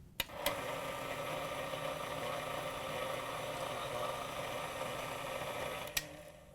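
A Whirlpool/KitchenAid/Maytag stand mixer motor hums at a steady speed for several seconds, even and loud close by, with sharp clicks as it starts and just before it stops.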